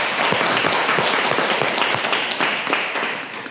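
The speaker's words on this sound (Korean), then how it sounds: "큰 박수 부탁드립니다" Big applause fills a hall during a Buddhist overnight prayer retreat closing session, many hands clapping in a thick, continuous roar that tapers off gently toward the end.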